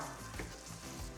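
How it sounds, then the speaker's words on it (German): Tomato paste frying briefly in a pan, a close, crackling sizzle with a few soft stirring scrapes, heard alone. "Der Tomatenmark sorgt für mehr Aromen und den füge ich jetzt zu. Kurz anbraten, bis er sich aufgelöst hat."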